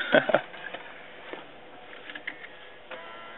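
A Pioneer AVH-P4100DVD car stereo's motorized screen whirs and clicks as it tilts, ejects and loads a disc, with a sharp burst of mechanical clatter at the start followed by softer, intermittent clicks and motor hum.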